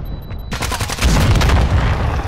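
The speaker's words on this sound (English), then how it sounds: "Hostile mortar strike incoming." Mortar strike explosions in a combat video game: a rapid cluster of heavy booming blasts arrives after a brief quiet moment, followed by a deep, rumbling impact that rolls on loudly to the end.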